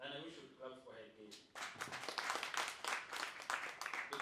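A crowd bursts into applause partway through, dense clapping that swells and continues after a brief stretch of quieter sound.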